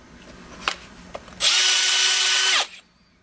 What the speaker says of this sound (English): So we've trimmed the barrel.